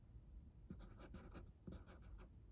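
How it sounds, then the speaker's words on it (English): A pen writes by hand on paper during a math lesson on absolute value equations, giving faint, close scratchy strokes in short bursts with brief pauses between them. "I'm just going to write that down underneath of it."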